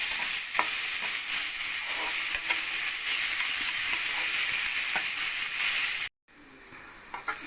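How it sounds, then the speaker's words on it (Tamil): Onions fry to golden in a pan for egg curry, giving a continuous close sizzle with light stirring scrapes, then a brief cut and a slightly softer sizzle. "இப்போ நல்லா ஆனியன் ஃப்ரை ஆகிடுச்சு, கோல்டன் ஃப்ரை ஆகிடுச்சு."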